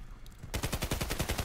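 M4 rifle fire in the Contract Wars shooter game, a rapid automatic burst of evenly spaced sharp cracks that starts abruptly after a moment of low noise, loud and close with no talking.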